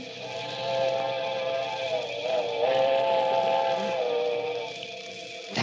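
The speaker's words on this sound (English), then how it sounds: "that was it. The midnight train." A steam train whistle sounds in a radio drama at night by a bridge, sustained and tonal over a hissing rumble, rising to a steady moderate level as the midnight train approaches from the distance.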